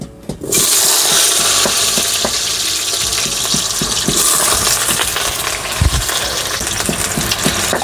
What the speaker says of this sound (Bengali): কড়াইতে তেল দিয়ে দিব, তো তেলটা গরম হয়ে গেছে, এবার আলু দিয়ে দিব